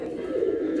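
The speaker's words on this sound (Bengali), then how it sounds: "আজকে এখানে কিছু কবুতর আছে, ঘুরে ঘুরে দেখানো হবে" Pigeons at a pigeon farm in Gaibandha give a low, throaty coo in one short, continuous burst, heard close with no voices.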